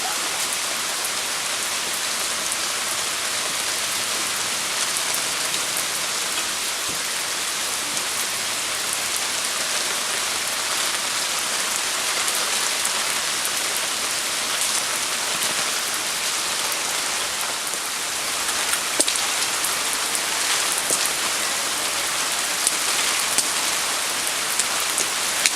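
Heavy rain pours in a steady, hissing downpour, dense drops drumming on surfaces nearby with no pauses and no voices.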